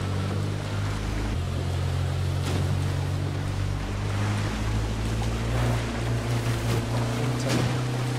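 A motorboat engine in the H1Z1 battle royale game, sounding rough as if water got into it, drones steadily at close range with a low hum that shifts pitch partway through, over splashing water and wave noise.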